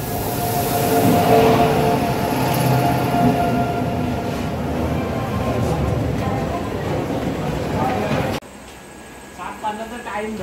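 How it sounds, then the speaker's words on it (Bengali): A passenger train pulling out of Malda station at night, a loud continuous rumble and rattle of the cars that cuts off abruptly near the end, with people talking over it. "এই এখন 10:10-এ ট্রেন ছাড়বে মালদা থেকে।"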